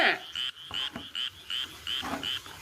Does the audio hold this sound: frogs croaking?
yes